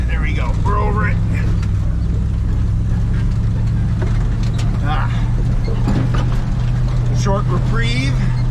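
A truck engine labors in first gear up a steep slope, a steady low drone that holds throughout with someone talking over it.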